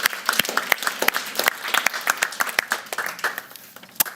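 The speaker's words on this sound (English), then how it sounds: "let's give our panel a round of applause" An audience applauds a research panel at a government education event, a steady burst of many hands clapping at close range that thins slightly toward the end, with no voices over it.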